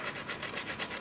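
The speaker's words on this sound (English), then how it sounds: "a very profound scratch that you get from just standard pressure sandpaper" Sandpaper rubbed under ordinary pressure across an Oxinium femoral head, the ball of a joint replacement implant, giving a close, steady, rasping scratch with a few rhythmic strokes over about a second.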